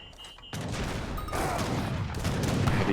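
Heavy cannon fire in a competitive real-time strategy match breaks out suddenly as a sharp onset. It then turns into a dense, continuous battle clatter of overlapping shots that grows louder.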